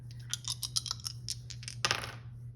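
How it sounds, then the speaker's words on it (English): Dice rolling and clattering on a hard surface: a quick series of small light ticks and taps, then one brighter rattle before settling, faint and close, with a low steady hum underneath. "I am going to roll the dice"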